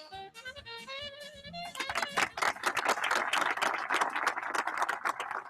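A voice speaks briefly, then a crowd breaks into sustained applause, many hands clapping quickly and steadily until the end.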